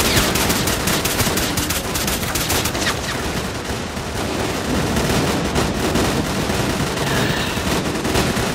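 Dense, sustained gunfire in the shooter S.T.A.L.K.E.R.: Clear Sky, with rapid overlapping bursts of automatic rifles and single shots cracking loudly and without pause throughout.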